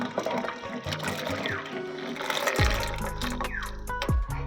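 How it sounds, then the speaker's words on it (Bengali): Hot milk pours from close by into a bowl for a coconut milk paneer dish, a short splashing liquid stream that then gives way to a low, steady hum. "গরম দুধটা আমি গামলিতে ঢেলে নিচ্ছি"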